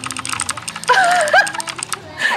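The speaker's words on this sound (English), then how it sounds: "gotta be the mouse clicky" Rapid clicking of a computer mouse and keyboard during a League of Legends session, close and crisp, with a tonal game sound and brief laughter or voice in the background.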